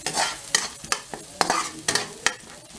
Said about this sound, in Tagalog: Nagluluto na ako ng tinola. Yun na yung chicken ko.